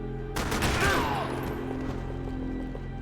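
Gunfire from the video game Max Payne 3, a sudden loud burst of shots that starts abruptly and fades into a lingering rumbling tail, with a voice faintly under it.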